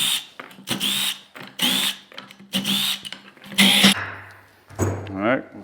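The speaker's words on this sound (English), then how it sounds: "you take your clutch cover screws out" Bursts from a power tool backing clutch cover screws out of a Polaris RZR or Ranger primary clutch. There are five short, loud whirring runs in a steady rhythm, close by, with someone talking briefly between them.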